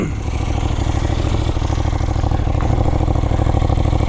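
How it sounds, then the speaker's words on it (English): A 2026 KTM 990 RC R motorcycle engine runs close by, settling into a loud, steady idle with a rapid, even throb. "Let's start it up."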